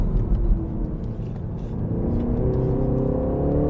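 A BMW 3 Series pulls hard in second gear at around 4000 RPM, with traction control on, giving a loud, steady engine drone and a deep rumble from inside the cabin.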